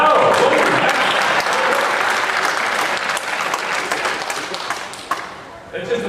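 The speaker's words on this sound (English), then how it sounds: "It just applauded because I said that the New England Patriots lost" An audience at a student technology conference breaks into sustained applause, a dense wash of clapping that stays strong for several seconds before thinning out toward the end.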